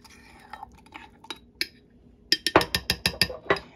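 Spoon stirring vanilla confetti mug cake batter in a mug: scattered soft scrapes and taps at first, then a brisk run of sharp, regular clinks of metal against the mug near the end, close and with no voices.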